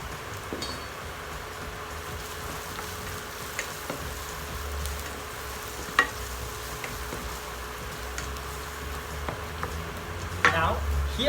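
Onions browning in a curry pan with Kashmiri chili powder added, a soft steady sizzle with occasional clinks and stirring taps, fairly quiet and close.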